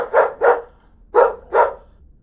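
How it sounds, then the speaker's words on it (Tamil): A dog barks in two quick pairs of loud, close barks with a short pause between them, a sound effect for a Tamil horror audiobook with no voice over it. "நாய் நின்ற இடத்திலேயே நின்று குரைத்தபடி துள்ளிக் கொண்டிருந்தது"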